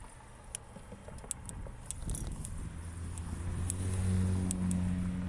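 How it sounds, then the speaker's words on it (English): Cars on a road pass beside a sidewalk during a bike ride, an engine rumble building from faint to louder and nearer, with light clicks and rattles over it. "You'll hear a bit of cars for a second,"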